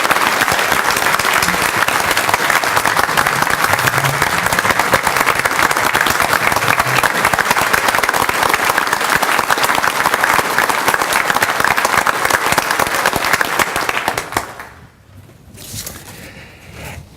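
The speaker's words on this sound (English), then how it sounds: "So that deserves a massive round of applause this morning in recognition." A breakfast audience gives a long, loud, dense round of applause for a retiring Circuit Court Clerk after 18 years of service. It holds steady for about fourteen seconds, then fades quickly into quiet room noise.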